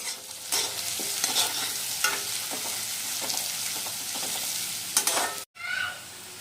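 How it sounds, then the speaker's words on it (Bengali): Onions frying in oil until golden for a koi fish curry, a constant close sizzle broken by frequent spatula scrapes and stirring clinks, with a short break near the end. "আর পেঁয়াজটা আমরা ততক্ষণই ভাজবো যতক্ষণ পেঁয়াজটা একদম সোনালি না হয়ে যায়"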